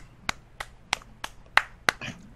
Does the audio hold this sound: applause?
yes